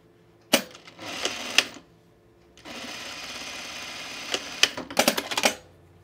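A sewing machine stitches fabric rug pieces together in two rapid bursts with a pause between, loud and close, with clicks and clunks as it starts and stops.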